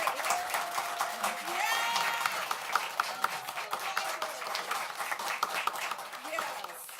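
Audience applause at a school board meeting, sustained clapping from a room full of people with sharp individual claps standing out, steady for several seconds and partly under talk.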